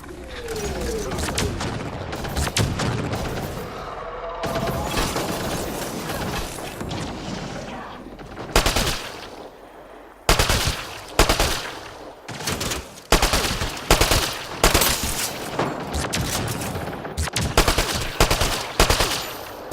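Loud gunfire crackles through combat at a kett labor camp in Mass Effect: Andromeda, with rapid automatic bursts and sharp single shots coming in uneven clusters, separated by brief lulls.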